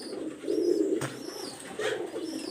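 Low, rolling coos rise and fall from a loft of Teddy Golden Kamagar pigeons and their young, near and moderately loud, with a brief sharp knock about midway and no voices.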